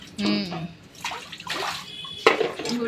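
Pieces of fish being rinsed with water, short splashing and sloshing bursts in quick succession, close and moderately loud, with a voice in the background.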